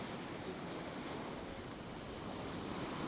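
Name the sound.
ocean waves, rolling swell at the beach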